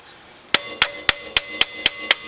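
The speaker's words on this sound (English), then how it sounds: "Take a hammer, tap on the edge of it." Seven sharp metallic hammer taps on the edge of a brake drum on a Honda Foreman 450 ATV, evenly spaced and close by, ringing briefly after each strike with no talking.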